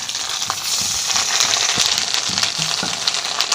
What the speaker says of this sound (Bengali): বাকি ডিমগুলোও ভেজে নেব।